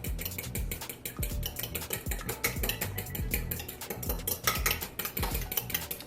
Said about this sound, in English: I'm gonna take a fork and I'm gonna mix it all up.